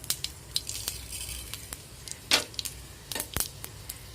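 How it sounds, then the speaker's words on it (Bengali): Black mustard seeds hit hot ghee and crackle quietly, with scattered sharp pops and light clicks of a utensil against the pan. "আমি ঘি দিয়ে দিয়েছি, এরপর সর্ষে দিচ্ছি, কালো সর্ষে।"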